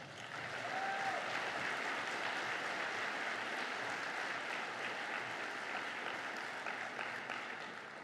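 An audience at the Global Climate Action Summit applauds, a dense, steady wash of clapping that carries evenly for several seconds, heard at a distance and without talk.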